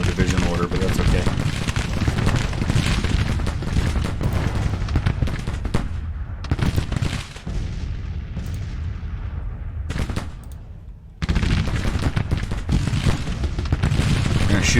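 Civil War battle in Grand Tactician: The Civil War, with dense continuous rifle fire and booming artillery, loud and unbroken, briefly thinning before surging back.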